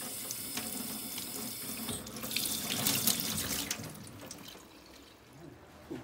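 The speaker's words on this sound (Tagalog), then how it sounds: "Tapos hugasan po mabuti." Fish gets washed under a running kitchen tap, water splashing and hissing at low level and swelling louder in the middle as the stream hits the fish and sink, with small drips and clatters.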